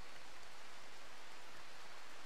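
Steady rain falls in the RimWorld video game, a faint, even hiss of broadband noise with no distinct drops, holding unchanged for the whole moment with nobody talking.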